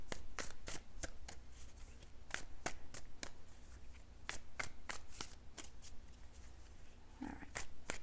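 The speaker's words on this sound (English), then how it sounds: "give your cards another quick little shuffle." A deck of tarot cards being shuffled repeatedly, with crisp riffling bursts and sharp snaps in a steady rhythm, close up and no talking.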